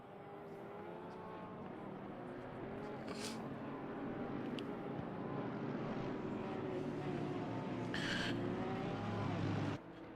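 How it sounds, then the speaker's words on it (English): Racing car engine at Snetterton as the driver rides the brakes, a steady droning hum with faint passing whooshes, heard under continuous commentary. "Sounds like he's still doing a little bit of brake riding."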